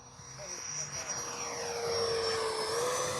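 An FGFRC 80mm A-6 RC model jet makes a presentation pass, its ducted-fan whine holding a high steady tone that swells and shifts in pitch as it flies by, growing louder toward the end.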